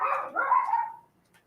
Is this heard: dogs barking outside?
yes